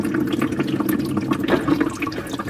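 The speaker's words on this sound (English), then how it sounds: "Once the water drains out." Water drains out of a previously clogged sink with a steady, close gurgling and rushing flow that continues throughout.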